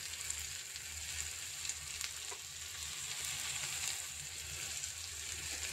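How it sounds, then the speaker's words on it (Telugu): Onions frying in a pan for okra fry, a soft continuous hiss and crackle with faint occasional ticks, steady and quiet, no speech. "కొంచెం బ్రౌనిష్ వచ్చేదాకా వేయించుకోవాలి"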